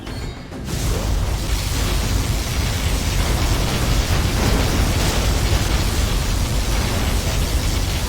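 After a brief lull, a Command & Conquer Generals Zero Hour particle cannon blast erupts into a loud, sustained roaring rumble with heavy low booms that continues steadily without pause.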